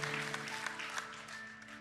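Church congregation applauding during a Sunday evening worship service, a steady wash of clapping that fills the whole clip at moderate level, with sustained tones from music or an organ underneath.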